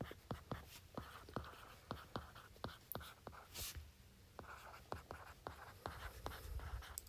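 Chalk or marker writing a chemical equation on a classroom board, quiet rhythmic strokes and taps in short bursts with brief pauses, faint and close, with no speech over it.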